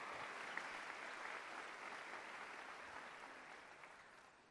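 Church congregation applauding during a sermon, a faint, distant wash of many hands clapping that holds steady for several seconds and slowly fades, with no speech over it.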